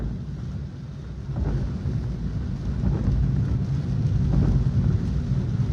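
Heavy rain pours over Vadodara under black clouds, with deep rolling thunder rumbling low and building in strength beneath the steady wash of rainfall.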